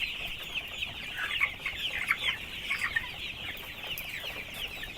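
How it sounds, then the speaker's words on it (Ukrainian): Broiler chickens clucking in a village farmyard, a continuous murmur of soft, overlapping clucks and chirps from a small flock, moderately faint and free of talk. "Ну і бролери. Ось такі вже гарнюні повиростали."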